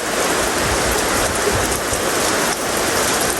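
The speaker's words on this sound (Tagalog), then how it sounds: "Pero ngayon po ay medyo humihina na po ang ulan." Steady heavy rain pouring down, a dense continuous hiss of drops on surfaces, loud and close throughout.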